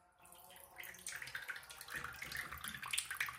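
Tap water running into cupped hands, a close splashing rush that swells after a brief quiet start and continues unevenly with spattering.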